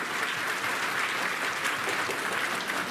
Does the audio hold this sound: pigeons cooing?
no